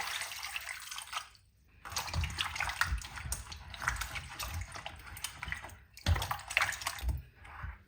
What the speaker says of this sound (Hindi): अब इनको धोएंगे हम, 2-3 पानी से धो लेंगे।